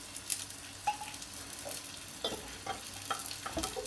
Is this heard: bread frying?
yes